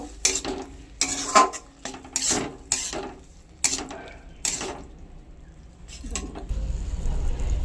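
A utensil stirring garlic and flat beans with salt and sugar in a pan, giving repeated close scraping and clinking strokes in an uneven rhythm, followed by a low rumble toward the end.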